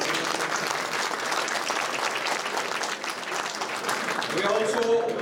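Sustained audience applause at a Kashmir Solidarity Day gathering in London, a loud dense crowd clapping throughout, with a voice rising briefly near the end.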